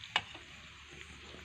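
Noodles stirred in a pan give a soft, steady scraping and light sizzle, with one sharp utensil tap near the start, close and quiet with no talking.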